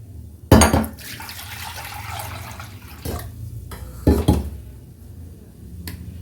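Water from a tumbler poured into a cooking pot over rice and lentils, a few short splashing pours separated by pauses, close and clear.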